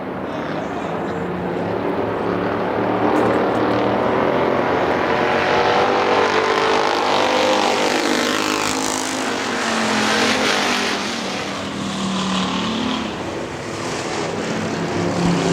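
Factory stock race cars roar around Hartford Speedway Park, a dense, sustained engine drone from the pack rising and falling as the cars pass, with a track announcer talking over the noise throughout.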